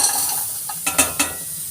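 Green chillies, garlic, onion, peppercorns and cumin sizzle in a kadai, a soft steady hiss close up broken by three quick scraping stirs near the end.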